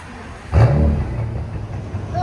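A blacked-out 2017 Bentley Bentayga with a 6.0L twin-turbo W12 and straight pipes blips its engine once in a sharp, loud rev that fades into a lingering rumble, with a person talking nearby.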